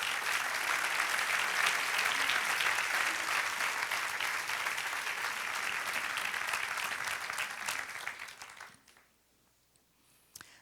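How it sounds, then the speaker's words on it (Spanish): A church audience applauds during a Spanish-language sermon, sustained loud clapping that carries on for about eight seconds before tapering off into near silence, with a brief faint sound at the very end. "Dale un aplauso al Señor."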